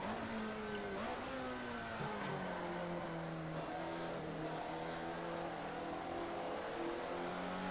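An Alfa Romeo race car in a racing video game bogs and drones at a steady mid-pitched engine note, the revs sagging and wavering slightly without clean acceleration, loud and close throughout with no talk.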